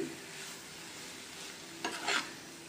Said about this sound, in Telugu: నేను పచ్చి కొబ్బరి ఫ్రై చేసి వేస్తానండి.